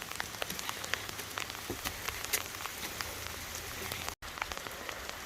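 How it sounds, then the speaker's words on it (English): Steady rain falls outdoors, a dense, even patter of drops striking surfaces with scattered sharper taps, continuous and moderately loud with one brief dropout near the end. "Unfortunately, it's raining."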